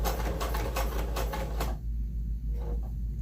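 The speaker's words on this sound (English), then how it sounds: "you put your presser foot back down, and you can use the pedal slowly because I'm not going very far." Pedal-driven sewing machine stitching fabric, a fast rhythmic mechanical chatter up close that runs steadily and then stops abruptly partway through, leaving a low hum.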